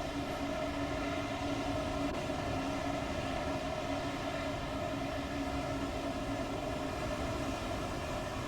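A train rolls steadily in the Train Sim 2 video game, a continuous droning engine hum with constant tonal layers and even loudness throughout, no talk.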